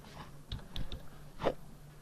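A few quick keystrokes clatter on a computer keyboard during AutoCAD drafting, light and close, in a short irregular burst.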